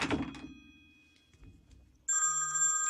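A telephone starts ringing with a bright, steady electronic tone that cuts in abruptly after a thump and a stretch of near silence, close and fairly loud.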